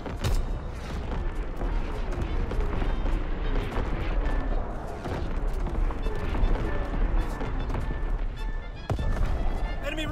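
An artillery strike in Call of Duty WWII: dense, continuous booming shellfire and gunfire crashing close and loud throughout, with a voice talking over the barrage.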